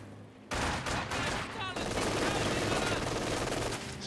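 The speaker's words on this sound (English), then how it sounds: "Kind of machine gun." Dense automatic machine-gun fire and gunfire from the World War II strategy game Company of Heroes 2, a continuous loud clatter of rapid bursts with explosions mixed in, running nearly the whole time after a brief quieter opening.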